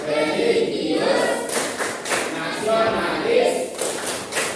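A classroom group chants a rhythmic Indonesian clapping routine, with voices calling out together and punctuated by several loud bursts of hand claps spaced through the chant at close range.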